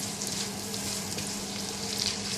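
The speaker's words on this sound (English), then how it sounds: "Add 1 tablespoon of ginger garlic and then the onions. Saute till it's brown in color." Onions with ginger garlic paste sauté in a hot pan for mutton curry, giving a steady, close frying sizzle that hisses on without pause and has no voices over it.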